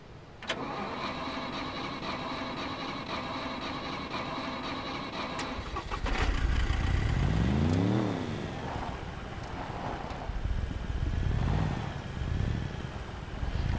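An ATV quad bike in the video game SCUM starts up partway through, its engine revving up and down in several surges before settling into a steady mid-pitched drone, with no talking.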